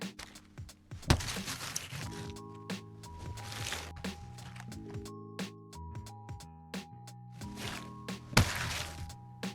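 An ice sample for a Hollow Knight sound redesign, made of crunchy, cracking impacts hit in an irregular rhythm over sustained tonal notes. It sits close and fairly full, with a sharp strike near the start and another near the end.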